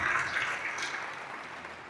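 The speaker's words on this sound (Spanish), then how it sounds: "Un aplauso al Señor." Brief applause from a church congregation, a moderate wash of clapping that fades steadily over about two seconds, with a faint voice underneath.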